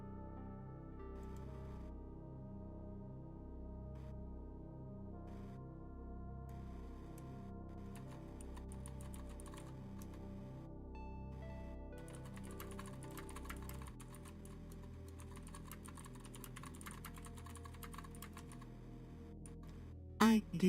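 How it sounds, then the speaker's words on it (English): Rapid keyboard typing by an architect entering a logbook, a steady close clatter of keystrokes running throughout, set against a soft layered tonal background for a relaxed ASMR feel. "They are typing away in their logbook."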